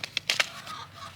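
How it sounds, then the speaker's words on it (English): A chicken clucks in a handful of short, sharp, agitated bursts, fairly close and with no voices over it. "My chicken is literally yelling at me."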